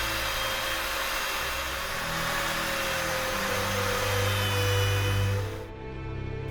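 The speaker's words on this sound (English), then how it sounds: "now I'm having to go at it with the polishing wheel." A polishing wheel buffs a cast steampunk armour piece, a steady motor whine with rising friction hiss that swells loudly near the end before dropping away.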